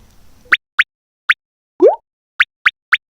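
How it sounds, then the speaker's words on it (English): Water drops falling from melting icicles on a winter day: six crisp, bright plops spaced irregularly, with a lower, sliding drip sound in the middle, all close and clear over near silence. "Those are drops of water falling for the icicles."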